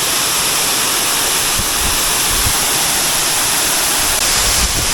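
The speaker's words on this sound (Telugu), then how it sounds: "సూపర్ ఉంది మహితాపురం వాటర్ ఫాల్స్." Rushing water pours down the Mahithapuram waterfalls, a loud, dense, unbroken roar heard up close with nothing else standing out.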